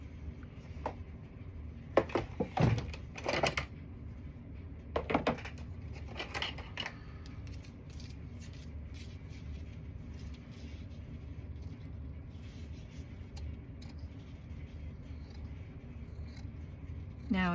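Scissors cutting paper along a fold, a few brief crisp snips close by early on over a low rumbling background.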